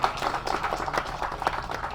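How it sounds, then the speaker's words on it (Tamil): Audience clapping at a Tamil film audio launch event, a dense, steady patter of many hands heard from within the crowd, with faint voices mixed in. "கணேஷ் மாஸ்டருக்கு வந்து தயவு செஞ்சு ஒரு கைத்தட்டல் கொடுங்க."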